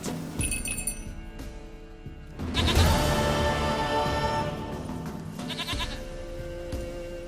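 A goat bleats in The Witcher 3 against a steady game ambience, its calls repeating in short bursts with faint clinking between them, with no talk.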